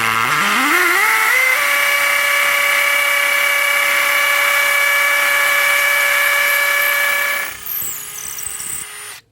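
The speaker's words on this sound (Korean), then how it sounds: "회전하면서 타격이 되기 때문에 구멍을 낼 수가 있습니다." A hammer drill in hammer mode bores a hole into a brick wall, its loud motor quickly winding up to a steady high whine and holding for several seconds before cutting off abruptly.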